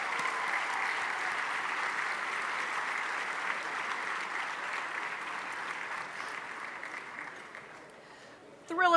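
A banquet-hall audience at the 2015 ThrillerFest awards banquet gives a long, steady round of dense applause that stays even throughout, then swells slightly louder right at the end.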